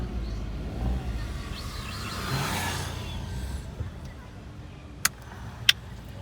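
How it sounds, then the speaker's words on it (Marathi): A car sits in heavy road traffic in Mahabaleshwar, giving a steady low engine and road rumble with faint muffled background activity and two sharp clicks near the end. "ट्रॉफिक मध्येच गाडी आहे."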